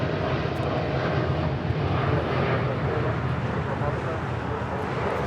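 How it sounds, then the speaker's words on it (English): A United Boeing 787-9 Dreamliner departs Los Angeles International, its engines a dense, loud, continuous roar, with radio chatter or a voice faintly underneath. "That is United 231 departing to London Heathrow on a 787-9 Dreamliner."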